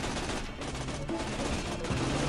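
Gunfire in the video game Tales from the Borderlands during a fight with a bandit: a dense, loud, continuous barrage of rapid shots and blasts filling the whole moment.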